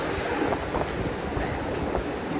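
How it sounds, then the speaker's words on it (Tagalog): Strong wind roars steadily past an outdoor microphone in Taiwan, a loud unbroken rush with faint background activity and no talking. "Lakas lang hangin."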